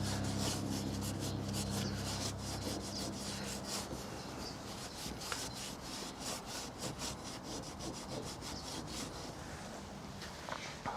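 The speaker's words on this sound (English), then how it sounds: "now you'll notice I'm not rubbing real hard. I'm just getting it down to the paint." Rubbing old glue off a car body down to the paint, a steady rhythmic scrubbing rasp with quick repeated strokes, close and continuous without talk.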